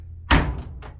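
A Kenmore Elite clothes dryer door swings shut with a single solid thud, followed by a couple of faint rattling clicks as it settles, close by in a quiet room.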